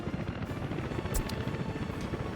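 Helicopters in the video game Soviet Republic, a steady rapid rotor chop and buzzing drone filling the scene at a constant level, close and busy, with no talking over it.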